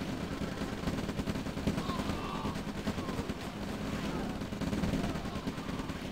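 Rocket fire hitting a Ranger vehicle in a real-time strategy match, heard as steady rattling gunfire and rapid bursts with faint whistling rockets, all dense and continuous at middling loudness.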